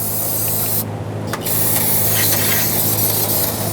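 Brake parts cleaner sprays in a steady, close hiss from an aerosol can onto a 1999-2007 Ford F-350 7.3L Powerstroke after a fuel filter change, with a brief pause before the spraying resumes.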